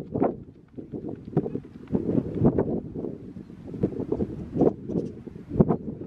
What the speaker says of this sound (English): it's been pretty windy here